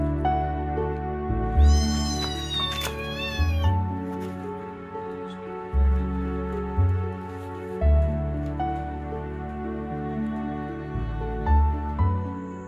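Orphaned kittens being nursed by a dog meow repeatedly, high thin cries close by, over a steady musical background with a voice narrating.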